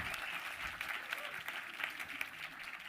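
Auditorium audience at a short film competition screening claps continuously, a soft, even patter of many hands with faint voices mixed in.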